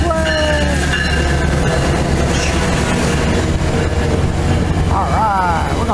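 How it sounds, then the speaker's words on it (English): A VRE passenger train rolls in with a heavy rumble and squealing brakes, loud and close, while people talk excitedly over it. "here comes our train. Look out, yay, there it is"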